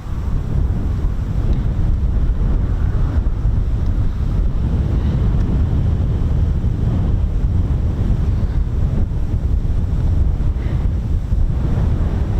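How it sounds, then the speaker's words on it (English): Strong wind roars continuously at an RAF airfield, buffeting the microphone with loud, low rumbling gusts throughout and no voices. "Probably tell how windy it is."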